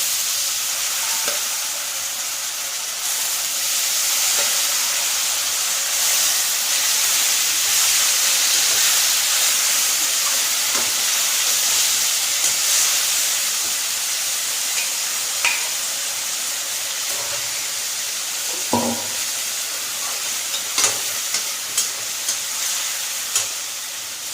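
Goat meat sizzles steadily in a hot pan, a continuous frying hiss broken now and then by sharp clinks and scrapes of stirring.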